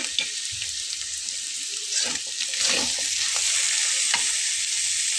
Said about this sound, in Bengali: খুব ভালোভাবে চুলার আঁচটাকে কমিয়ে রেখে মিশিয়ে নিতে হবে।